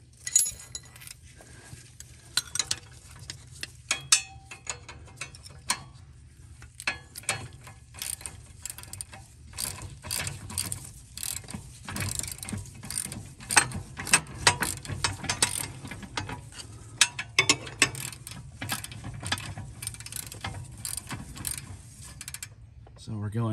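A ratchet tightens bolts on a John Deere riding mower's steering assembly, giving bursts of rapid clicking with brief pauses between runs, close by and fairly quiet.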